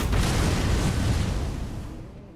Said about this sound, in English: How do you block a cannon shot, by the way?